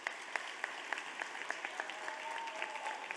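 Audience at the USC Upstate 2022 convocation claps steadily, a dense, moderately distant patter of many hands with sharper individual claps poking through, no voices over it.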